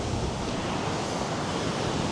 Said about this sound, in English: the rough sea just took off